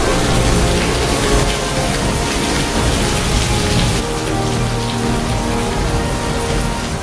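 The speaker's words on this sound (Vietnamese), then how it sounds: "Khi trời chuyển mưa, cơn mưa rừng xối xả vốt mặt bao du khách phương xa" Heavy jungle rain pours down at Ba Na Hills in Da Nang, a steady loud hiss of drops hitting surfaces with faint thunder underneath, no voices.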